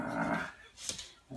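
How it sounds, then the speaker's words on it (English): A dog growls low and rumbling in short bursts, close by, with brief pauses between. "Growling."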